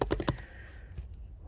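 Fast, light keystrokes on a computer keyboard as names are entered into PowerPoint text boxes, a quick close flurry of clicks fading into quiet.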